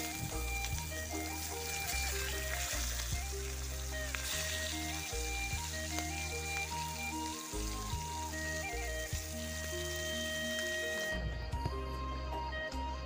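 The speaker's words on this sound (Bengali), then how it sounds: "আমি যে কড়াইতে বেগুন রান্না করবো সেই কড়াইতে আমি মাছটাও আমি ফ্রাই করে নিচ্ছি" Fish fries in a kadai, a faint steady sizzle and crackle with occasional drippy pops beneath a repeating low tonal hum.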